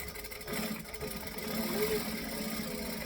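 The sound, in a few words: sewing machine top stitching along an edge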